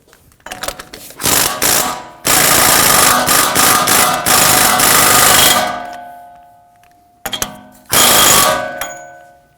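A power impact tool snugs an axle nut during front wheel bearing work on a 2016-2022 Honda Pilot. It fires loud, close hammering bursts: a few short rattles, one long sustained run, then two more quick bursts.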